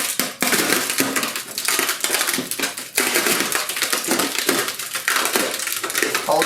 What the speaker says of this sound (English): You can hear it breaking away from the yarn.